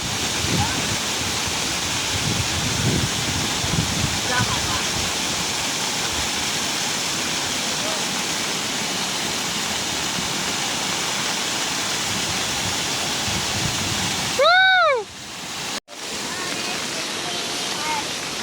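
Floodwater from a river swollen by heavy monsoon rain in rural Konkan rushes in a steady, loud broadband roar that lasts the whole stretch, with a brief whistling sound and a sharp knock near the end.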